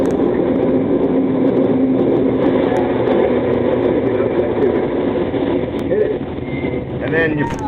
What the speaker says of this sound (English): There you can hear the fan plant.